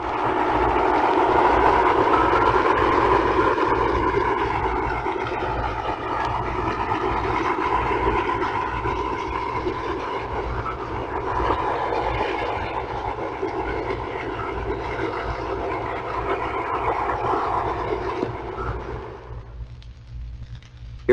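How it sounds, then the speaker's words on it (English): A surfaced submarine running on its diesel engines gives a steady, loud roar with a broad rumbling drone that holds for about twenty seconds before cutting off abruptly near the end. "When running on the surface, a submarine usually operates on its diesel engines, which produce a roaring sound."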